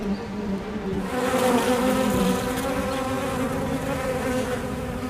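Dense, close swarm of bees flying and buzzing, a steady layered drone that rises in strength after the first second and holds evenly, with no voices.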